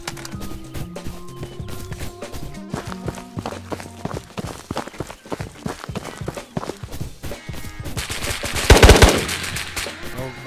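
Rapid machine gun fire in a video game on Island of Tabor, quick repeated shots over steady footsteps and game sounds, building to a louder burst near the end.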